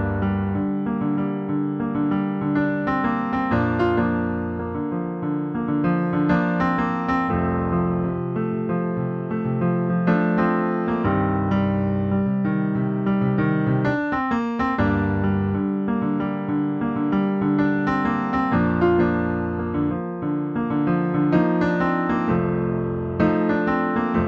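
Solo piano plays the melody and main riff of the first verse of a song at a steady, moderate loudness, with sustained chords underneath and no talking.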